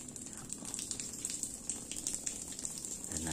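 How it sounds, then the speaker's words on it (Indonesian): Water flows from an opened stop tap through pipes for watering after a UV installation, a steady hissing gush with light splashing spatter, fairly close and unbroken by talk. "Penyiramannya gampang, tinggal buka stop kran."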